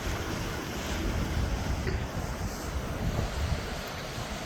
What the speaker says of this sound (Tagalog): medyo maalon pero hindi masyado malakas